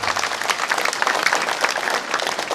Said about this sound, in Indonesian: Kita berikan tepuk tangan kepada beliau.